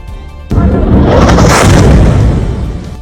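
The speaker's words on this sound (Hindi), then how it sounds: "धमाका इतना बड़ा था कि आसपास की बिल्डिंग भी यहां पर थर्रा उठी" A sudden deep boom of a large explosion demolishing a building, followed by a long roaring rumble of collapsing debris that stays loud to the end.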